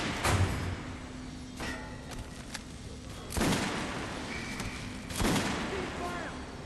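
Gunfire bursts at a shooting range in the video game Metro Last Light, with three separate volleys spaced a couple of seconds apart over a low hum, fairly distant and not very loud.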